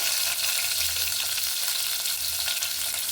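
Curry leaves and chopped small onions fry in hot oil for a brinjal curry, a dense continuous sizzle close up with light stirring, no talking.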